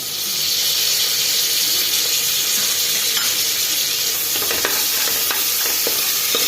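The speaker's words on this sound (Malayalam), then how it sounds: "നന്നായിട്ടൊന്ന് ഇളക്കി കൊടുക്കാം" Loud, continuous sizzle and hiss from a pan of green peas curry with green chillies and curry leaves, with spatula scraping and stirring growing busier toward the end; no voices.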